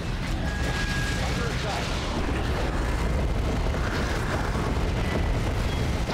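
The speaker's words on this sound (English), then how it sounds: "Grenades." Grenade explosions roll through a Warhammer 40K: Dawn of War 2 Chaos Rising battle as a dense, continuous wall of booming blasts and rumbling gunfire, loud and unbroken throughout.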